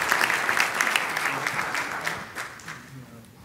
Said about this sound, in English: Can we have another round of applause for our president?